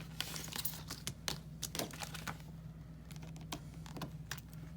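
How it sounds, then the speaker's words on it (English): A manual die-cutting machine runs paper and pet-shaped dies through to cut pieces for a birthday card, a crinkling, clicking mechanical grind at close range with no voices. "and we'll do one more die cut."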